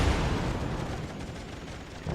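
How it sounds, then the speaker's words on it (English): Aircraft rockets striking a burning warship in World of Warships, a rapid cluster of heavy booming impacts blending into a continuous rumbling barrage, loud and dense with no voices. "I get 7 rocket hits there, but they all hit the section that is currently burning"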